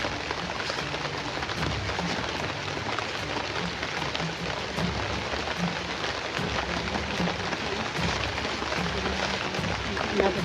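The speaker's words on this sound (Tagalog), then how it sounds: "Pasensya na po nung inabot po tabi dito ng malakas na ulan." Heavy rain pours down steadily in a dense, unbroken hiss for the whole stretch, with faint voices buried underneath.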